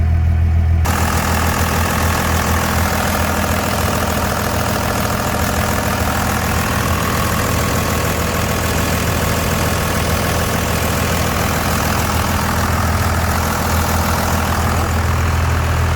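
A Cummins 12-valve diesel truck engine idles with a loud, steady low rumble and a rhythmic clatter, close and continuous for the whole stretch.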